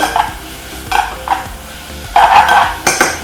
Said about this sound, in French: Là, on commence à mélanger les deux viandes ensemble.